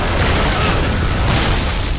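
A shotgun blasts in a first-person shooter video game, a loud, dense booming roar with blasts and impacts running together and no pause.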